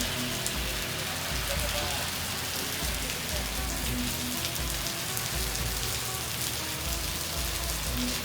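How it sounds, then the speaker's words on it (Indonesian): Steady rain falling and pattering on surfaces in the core area of Nusantara, Indonesia's new capital, a continuous dense hiss that fills the whole stretch. "Dan nampaknya hujannya udah mulai mereda ya teman-teman."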